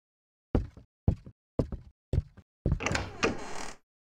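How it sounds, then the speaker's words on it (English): In the Nocturnal Visit horror video game, a back door opens: four separate hollow thuds or knocks spaced about half a second apart, then a longer creaking, scraping swing, close and clear with no talking. "Did the back door just open?"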